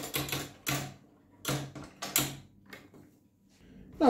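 Rotating table of a Parkside PKS 1500 miter saw clicking into its angle detents: a series of sharp, close mechanical clicks and clacks in irregular groups, with brief pauses between them and no talk.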